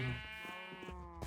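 Sheep in a Minecraft meadow let out a quiet, wavering bleat with clear harmonic tone, followed by a couple of soft short blips near the end.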